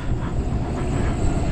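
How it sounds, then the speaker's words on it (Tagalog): A steady, heavy rush of strong wind in a Canadian winter storm, an unbroken dense roar over a brief moment with no talking. "malakas pa yung hangin"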